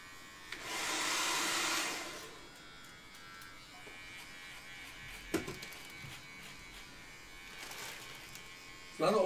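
Electric hair clippers cut someone's hair indoors: one short, steady buzzing burst near the start, then a quieter room with faint voices and small handling noises.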